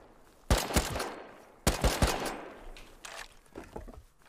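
Gunfire in the Rust video game: two loud, close bursts of rapid shots about a second apart, then scattered fainter shots and impacts trailing off.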